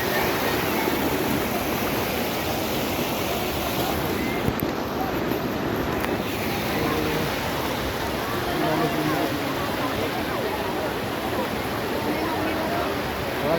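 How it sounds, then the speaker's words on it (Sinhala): A flowing stream rushes in a steady, loud, unbroken roar, with wind buffeting the microphone and the water noise filling the whole stretch without pause. "මේ වගේ වතුර පාරකින් විතර යන්න තියෙන්නේ."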